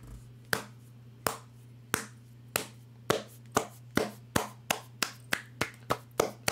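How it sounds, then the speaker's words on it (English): A slow clap of about fifteen sharp, dry hand claps, widely spaced at first and then speeding up into a quicker steady rhythm, heard alone and close over a faint low hum. "You got the slow clap, sir"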